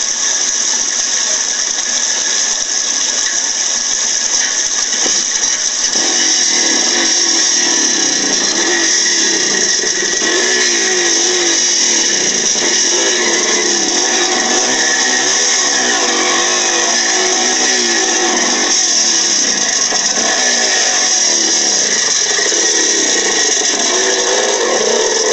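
A trail bike engine runs continuously on a wooded trail in the Berkshires, loud and close with shifting rattly mechanical texture, revving unevenly before cutting out; no one talks.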